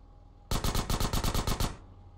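Rapid automatic gunfire from GTA San Andreas, about ten loud, evenly spaced shots in one continuous burst that stops abruptly, with no talk over it.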